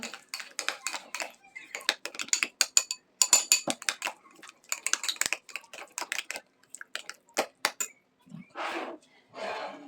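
A spoon clinks and scrapes rapidly and irregularly against a bowl while sour cream and mustard are stirred, close up, with brief pauses between bursts.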